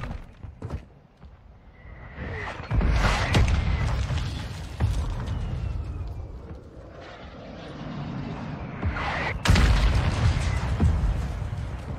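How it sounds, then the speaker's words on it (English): Video game mortar strike explosions come as deep, loud booms in a roughly 12-second stretch, with sharp impacts around a few seconds in and again near the end, under whooshing, rumbling battle noise. "Launch the mortar strike!"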